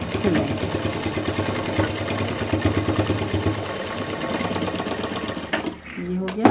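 An electric sewing machine stitches a fabric bag with a steady, rapid mechanical whir and needle clatter, running continuously up close before slowing and stopping near the end.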